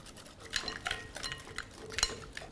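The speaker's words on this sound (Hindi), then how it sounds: "दही को पहले हम अच्छे से मिक्स कर लेंगे।" Yogurt being stirred for raita: quick, light clinks and scrapes of a metal spoon against a bowl in an irregular rhythm, close and fairly quiet, with no talking.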